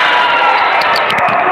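Fans in the stands roar and cheer after a goal at a goalball match, a loud, steady crowd wash with scattered sharp claps and shouts rising near the end.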